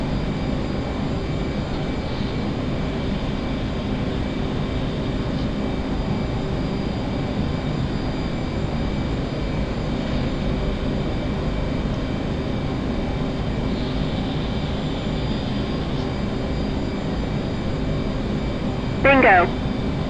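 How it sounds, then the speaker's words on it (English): An F/A-18 Hornet jet passes in a flight simulator game with a steady, unbroken engine roar, a short chirp near the end, and voices over it. "Just had a Hornet go right under me."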